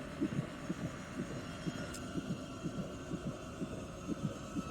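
In Amnesia: Rebirth, a muffled heartbeat pulses in steady lub-dub pairs roughly every half second, faint and close beneath a droning background hum.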